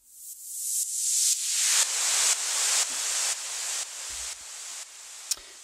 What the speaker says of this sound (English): Transition sounds like this.